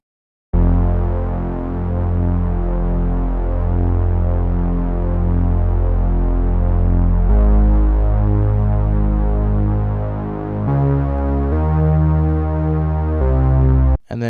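A beat melody with a heavy laid-down bass line plays alone, booming low sustained bass notes under a thick chordal synth, changing chords every few seconds, loud and full with no drums or voices.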